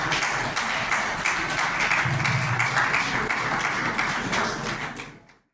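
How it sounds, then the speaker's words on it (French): An audience at a World Tourism Day ceremony applauds the minister, a dense, sustained wash of many hands clapping that stays even throughout and then fades out at the end. "je demanderai au public d'applaudir pour ce sens de management élevé de son Excellence"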